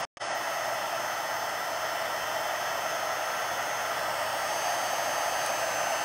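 Heat embossing tool blowing hot air onto silver embossing powder, a steady close airy roar like a hair dryer running continuously without a break, starting abruptly and holding at an even level throughout.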